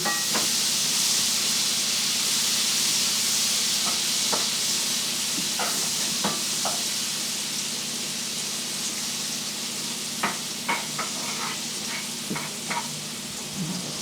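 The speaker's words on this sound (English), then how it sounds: "We're going to add our butter, and once it's melted, we'll add our flour." Butter melting and sizzling in a pan as the base for a roux: a constant soft hiss and sizzle throughout, punctuated by scattered light clicks and taps of utensils, with no one speaking.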